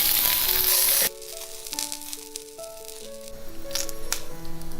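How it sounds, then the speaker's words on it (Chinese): Pork skin sears in a heated pan, starting with a loud sizzling burst that drops to a steadier frying crackle, close up, with a faint musical tone running underneath. "我们把锅加热，然后把猪皮放下来煎。"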